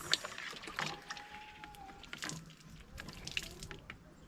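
Hands are washed under running water in an outdoor African village kitchen, with light splashing and trickling, scattered drips and a few soft clatters, quiet and close, with no talking.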